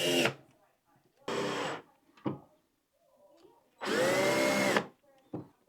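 A power drill drives screws during assembly of a narrow three-tier side table with display shelf, heard as several separate whirring bursts, two short and two long, loud and close, with quiet handling noises between them.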